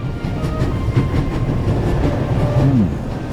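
A train in The Raven Remastered runs at full speed, a loud, steady rumble with rhythmic clickety-clack of the wheels. A short metallic squeal rises near the end. No one speaks.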